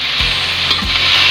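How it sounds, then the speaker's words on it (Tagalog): Shrimp being stirred into squash simmering in coconut milk, with a steady bubbling sizzle and a couple of soft scraping strokes from the spoon, close and fairly loud. "Haluan ko ng hipon."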